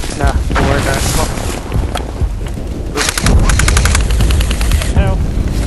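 Airsoft guns fire rapid bursts of sharp, loud clicks and pops outdoors, in quick rattling strings with short pauses between them.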